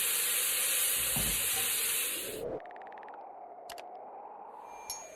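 Lamb steak sizzling on a grill, a loud steady hiss of searing meat for a couple of seconds before dropping to a quieter background crackle with a few sharp clinks.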